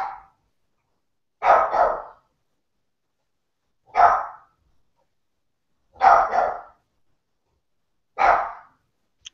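A dog barks in short separated bursts, about five single or double barks spaced roughly two seconds apart, close and clear against silence.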